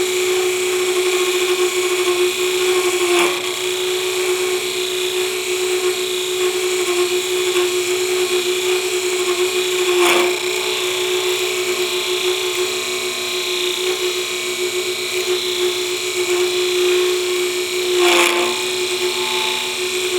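A wood lathe spins a wooden pizza cutter handle while a tool cuts a bead into it, giving a steady high whine with a faint scraping hiss and periodic louder catches.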